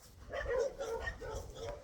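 Dogs bark at a farmhouse in a short burst of yips and barks, heard at moderate distance.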